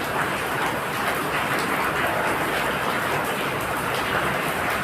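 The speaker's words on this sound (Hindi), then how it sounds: "बड़ी भयंकर बारिश हो रही है" Heavy rain pours down steadily, a dense constant hiss and patter at close range with no pauses or talk over it.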